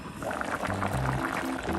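Korean potato stew (gamja jjageuli) boiling in a pot, giving a soft, continuous bubbling and simmering hiss heard up close, with a low hum beneath it.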